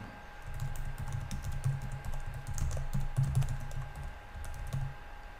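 Typing on a computer keyboard, a steady patter of close key clicks with brief pauses, continuing alone without talk.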